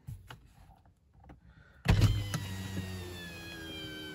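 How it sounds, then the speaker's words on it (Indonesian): A car's power window motor runs with the engine switched off, starting with a sudden thunk and then holding a steady whine. Before it, a few faint clicks are heard in a quiet interior. "power window masih bisa diakses"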